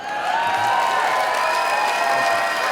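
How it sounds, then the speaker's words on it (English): An audience at a Moth storytelling slam fills the room with steady, continuous applause mixed with some cheers, close and full throughout. "A round of applause for Mike."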